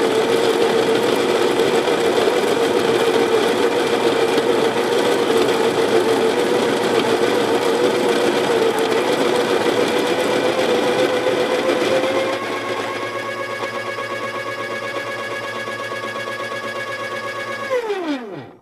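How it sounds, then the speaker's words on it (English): A coffee grinder runs on beans for a fine grind: a loud, steady motor whine holds alone, eases to a lighter tone midway as the load drops, then spins down to a stop. "All grinders are loud."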